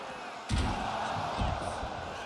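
Heavy thuds from wrestlers slamming into the mat and objects in the WWE 2K25 video game, two booming impacts over a steady crowd roar.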